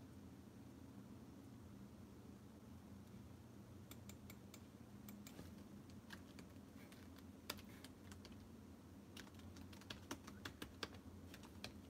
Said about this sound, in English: I'm typing that in for you guys so you guys can get that.